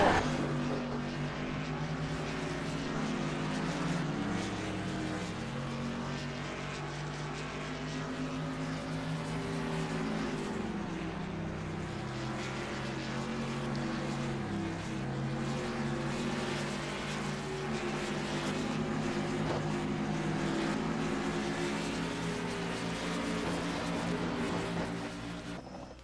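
Onboard sound from an ERL Nationwide Sportsman race vehicle at Indianapolis with a sour-running engine, a steady droning motor with wavering pitch, continuous and close.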